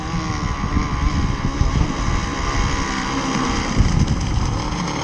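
A Zenoah 30cc gas engine powers an RC boat out on the water, droning steadily and loudly with a rough, buzzing tone throughout, no voices over it.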